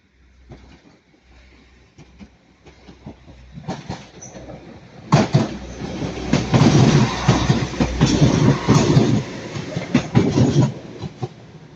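A Class 195 unit, 195-009, passes through Ardwick in Manchester, building from quiet approach to a loud, close rumble with rhythmic clickety-clack of wheels over rail joints.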